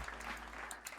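A few players at a tabletop Dungeons & Dragons session clap to celebrate a natural 20, a quiet, short burst of scattered applause with no talk over it.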